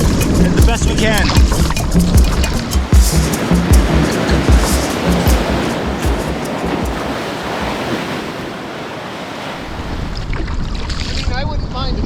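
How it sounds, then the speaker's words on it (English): Ocean swell and waves wash around a sea kayak off remote Nova Scotia islands, a loud continuous rush of surf and water slapping against the hull with heavy wind buffeting the microphone. "The worst waves are leaving the island, but there's still significant swell out here."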